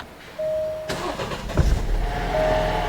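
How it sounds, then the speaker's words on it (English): An Alfa Romeo's engine cranks and catches after a key-fob start, the starter whir giving way to a rough surge and then a steady, moderately loud idle, heard close up. "I'm gonna start the engine."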